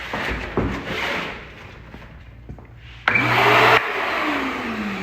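A Masterforce vacuum cleaner clicks on and runs with a loud, steady whine close by for under a second. It then settles into a quieter hum after some handling clatter.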